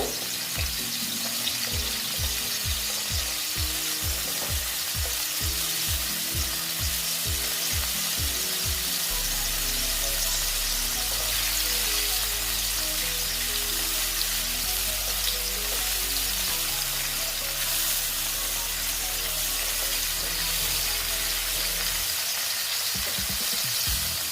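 Paneer fries in a pan for milk paneer curry, a steady bright sizzle running throughout with low rhythmic thumps early on and a droning hum underneath, with no voices.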